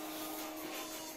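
Cooling fan of a budget Chinese video projector running, a steady close whirring hiss with a faint tonal hum, constant for its whole short length and without talk.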